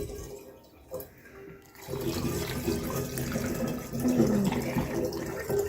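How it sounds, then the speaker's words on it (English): Warmed water pours into a jug of honey to make lemon mead, a steady splashing fill that starts after a quiet moment and runs on, growing a little louder near the end. "I'm going to add in some of our water."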